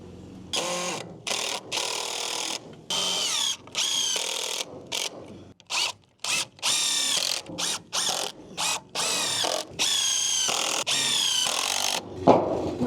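A power drill drives screws into roof wood on a badly damaged roof in a run of short, whirring bursts separated by brief pauses, loud and close, with the motor's pitch rising and falling on each screw.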